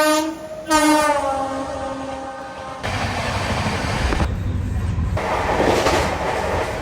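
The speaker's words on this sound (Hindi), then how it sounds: "पीछे से आ रहा है भोपाल गतिमान एक्सप्रेस, गति का मान रखते हुए।" Bhopal Gatimaan Express train approaching, with a long loud horn blast up front, then a roaring, rushing rumble of carriages passing close by.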